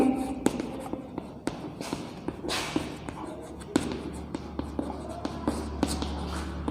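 Chalk or pen writing out a physics definition during a Hindi-language Class 11 lesson on dimensions, heard as a run of short taps and scratchy strokes under faint room noise, with no talk over it.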